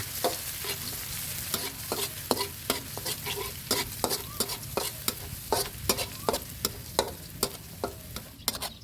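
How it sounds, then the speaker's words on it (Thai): Pounded Thai garlic fries in vegetable oil in a pan, a continuous close sizzle punctuated by regular sharp clicks and scrapes from a utensil stirring the pan. "เจียวให้เหลืองหอมเลยนะครับผม"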